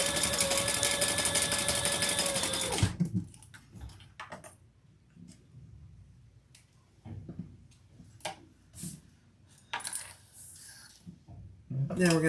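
A sewing machine stitches a small crossbody bag, running in one loud continuous whir for about three seconds before stopping, followed by quieter clicks and handling sounds.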